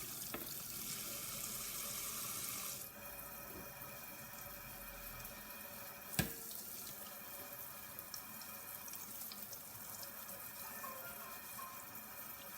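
Tap water runs steadily into a sink while Xbox 360 parts are washed with soap, a continuous hiss with a brief splash or clunk midway, with no talk.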